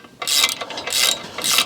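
A ratchet wrench clicks in three quick bursts while tightening 13 mm nuts and bolts during log splitter assembly, close and crisp.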